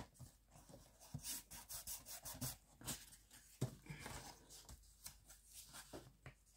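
A bone folder rubs back and forth over decorative paper glued onto a craft box, making quiet, close, irregular scraping strokes with no talk.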